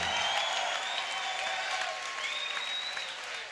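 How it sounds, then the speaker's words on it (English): After an IBF title bout between O'Neil Bell and Dale Brown, the arena crowd applauds both fighters, a wash of distant clapping with faint whistles and cheers mixed in. "how about a big round of applause for both of these warriors right here?"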